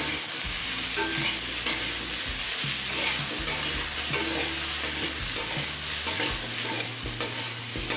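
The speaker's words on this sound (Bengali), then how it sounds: "এখন সব থেকে একসাথে আরও কিছুক্ষণ ভেজে নেবো" Potatoes, carrots and onions fry together in a pan over high flame, a loud continuous sizzle broken by regular scraping and clacking strokes of a stirring spoon.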